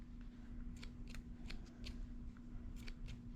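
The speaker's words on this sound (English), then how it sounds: "My scissors don't want to cut." Scissors snip repeatedly at string for a graduation tassel keyring in short, crisp bursts, close by, struggling to cut, over a steady low hum in the background.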